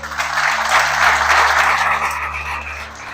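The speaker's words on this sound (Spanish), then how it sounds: "¿Le puede dar un aplauso al Señor, por favor?" Church congregation applause, a dense sustained wash of clapping that swells and continues for a few seconds, with a faint hum underneath.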